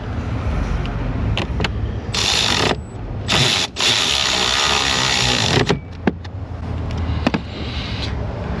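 Hand ratchet driving bolts in and out during auto shop coolant and oil cooler repair, steady rapid clicking with brief pauses and louder bursts, close and continuous.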